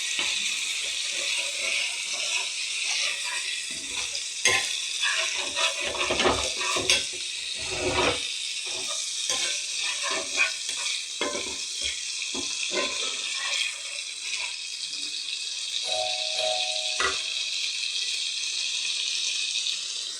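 Ginger-garlic paste fries with capsicum and onion in a pan while an egg dish is cooked: a continuous bright sizzle and hiss, broken by scattered clacks and scrapes of stirring, close-up, with no talking.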